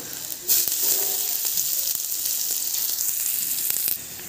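Onions hit hot oil with a sudden loud sizzle that settles into steady close frying and crackling, ending in a brief burst as it fades out.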